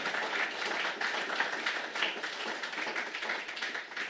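Audience applause at a university inaugural address honouring a research award: dense, steady clapping from a crowd filling the whole stretch, fairly distant and even, with no speech over it.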